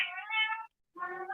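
A cat meows twice, close and clear, with a drawn-out first call, a short gap, then a second shorter meow.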